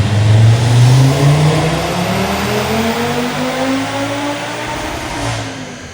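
An Audi RS3 with its 2.5-litre five-cylinder engine and Stage 2 tune revs loudly on a dynamometer, a single sustained pull whose pitch climbs and then eases, close and alone with no talk.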